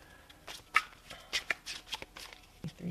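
Soft riffling and flicking of cards being shuffled nearby, a few quick bursts of papery snaps, quiet and close with no talking.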